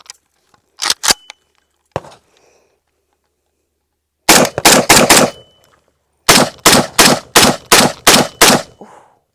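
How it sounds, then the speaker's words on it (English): Rapid gunfire from a Draco pistol: a few sharp shots up front, then a quick burst of about five and a longer string of about seven, each crack loud and close with brief gaps between. "Let's speed up some shots."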